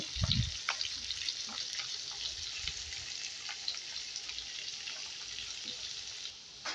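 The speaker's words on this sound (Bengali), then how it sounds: "এবার আমি মাছটা ভালো করে ভেজে নেব" Pieces of rohu fish fry in a pan with a faint, steady hissing sizzle and a few soft pops, with no one speaking.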